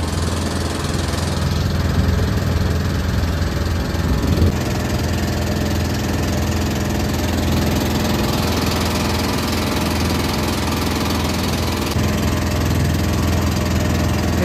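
A motor boat engine drones at a Yamuna river ghat in Vrindavan, a loud, steady low rumble with a constant throb, unbroken throughout and with no voices.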